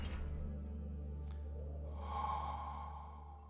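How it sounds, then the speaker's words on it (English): A character in the horror video game Amnesia: The Dark Descent lets out a soft, breathy exhale over a low steady game ambience hum. "that sound is the sound of Daniel exhaling"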